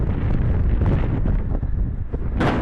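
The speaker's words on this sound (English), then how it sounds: "That's some wind there." Strong wind buffets the microphone in loud, continuous low rumbling gusts, with a sharper burst near the end.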